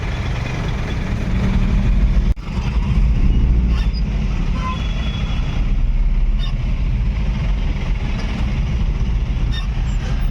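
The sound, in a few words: vehicles idling in a traffic jam at Suchitra Junction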